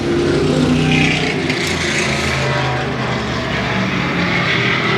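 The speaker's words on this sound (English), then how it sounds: "Now, they may not look like they're going very fast, but they're powering through the turns pretty good, and John Semler is trying to catch up" Classic asphalt modified race cars roar around the oval at Evans Mills Raceway Park during a 15-lap feature, a loud continuous engine drone that rises and falls as the pack passes through the turns.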